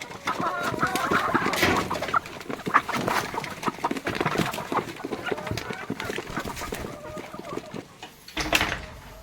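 Chickens cluck and murmur close by in a busy, overlapping flock, with some rustling and a knock near the end.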